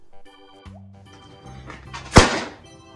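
An origami paper popper snaps once with a sharp, loud crack near the end, after a short stretch of faint rustling and handling noise.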